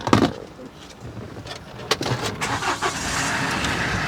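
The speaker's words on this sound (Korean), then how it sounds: "일단은 시동을 한번 걸어 보겠습니다" A 2014 Kia Bongo 3 one-ton long-wheelbase king cab truck with a CRDi diesel engine is started up close by: a few sharp clicks and thumps, then a steady engine rumble that builds and holds, with no talking.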